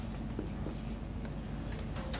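Pen strokes on a board in a programming lecture hall: a continuous scratchy writing sound with short rhythmic squeaks and taps, close and moderately quiet over faint room noise.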